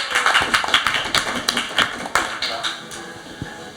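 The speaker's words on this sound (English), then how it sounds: "I think it's a round of applause is needed" A round of applause in a pub gathering, a few seconds of scattered, fairly close clapping mixed with the murmur of people talking.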